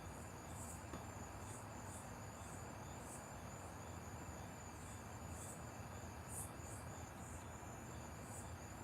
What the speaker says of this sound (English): Yeah, the crickets are celebrating.